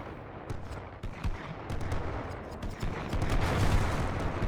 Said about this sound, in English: These machine guns are being taken care of now